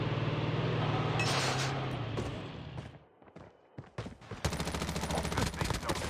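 Rapid automatic submachine gun fire from Call of Duty Mobile battle royale, in bursts, loud and close, with a brief lull in the middle before sustained firing resumes.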